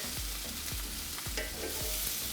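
Zucchini sizzles steadily on a hot grill, a dense close hiss running throughout, with regular low thumps and scrapes as pieces are turned, and no one talking.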